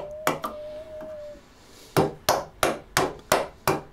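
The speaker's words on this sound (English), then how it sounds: "I make sure to chisel upwards when I do this, because sometimes chiseling straight or chiseling down will break out the wood" A chisel is struck to cut cross lap joints in wood for a frame saw: two early knocks, then six sharp, evenly spaced mallet blows close by, with a faint tonal whine in between.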